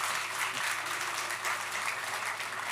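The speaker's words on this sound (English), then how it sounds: "Big round of applause" Audience applause at a MotoGP event, a dense, even wash of clapping that carries steadily through the short stretch.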